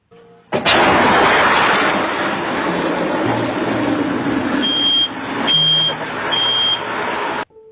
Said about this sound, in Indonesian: terjadi sebuah ledakan, sehingga menyebabkan material keras berhamburan ke segala arah